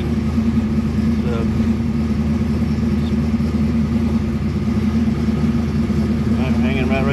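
A Foxbody Mustang engine with Holley Terminator X and MSD ignition idles steadily and loudly up close, a constant mid-pitched rumble, while people talk over it.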